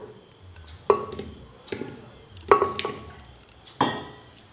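Grapes dropped into a washed metal pressure cooker give four sharp clinks and thuds, spaced about a second apart, each ringing briefly against quiet kitchen background.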